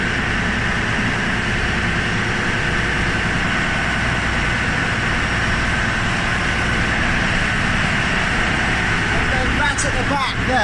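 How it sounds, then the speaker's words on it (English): Large 7-cylinder straight engine running in a ship's engine room, a loud, dense, continuous mechanical roar with a steady low throb, filling the space without pause while a voice speaks faintly under it. "So these are a 7-cylinder straight engine,"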